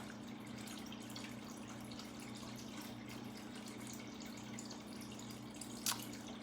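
A faint, steady trickle of water runs into an aquaponics grow bed over a constant low hum, with one brief louder splash near the end.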